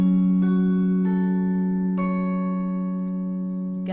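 A gospel-style chord played on an electric guitar, with a few plucked or strummed attacks ringing out and sustaining cleanly over four seconds, up close with no talking.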